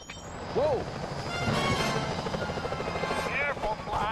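A security helicopter in Sly Cooper: Thieves in Time drones with a steady rotor wash through a museum heist scene, joined by brief crashes and swooping game effects; a voice speaks in the background.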